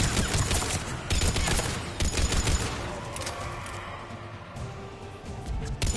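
Rapid bursts of video-game gunfire rattle out in Mass Effect 3 as enemies are shot, with dense clustered volleys and brief gaps, loud and close, with no voices.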